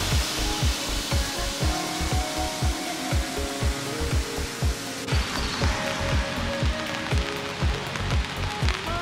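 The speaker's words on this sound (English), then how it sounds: "It's raining!" Rain falls in a Faroe Islands village, a steady patter on surfaces with a prominent rhythmic run of close, regular drips or taps repeating every fraction of a second over a constant hiss.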